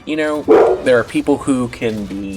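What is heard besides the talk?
dog barking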